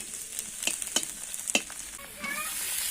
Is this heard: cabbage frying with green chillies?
yes